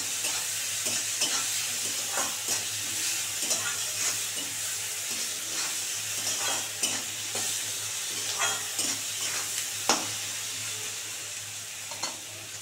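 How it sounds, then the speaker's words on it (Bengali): Potato and onion seasoned with salt and turmeric fry in a pan, an even sizzle broken by regular scraping stir strokes from a spatula, close and steady with no talking. "এবার এটাকে সুন্দর করে লাল করে ভেজে নেব, আলু আর পেঁয়াজটাকে"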